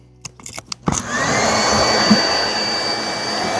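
A workshop vacuum switched on while plywood is being cut with a saw, with a few sharp knocks first, then a loud, steady close whine that sustains to the end.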